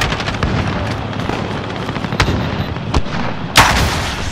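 Rocket strike explosions in the video game Call of Duty Modern Warfare: a continuous rumble of heavy booms and thuds, then one loud, sharp blast that stands out near the end.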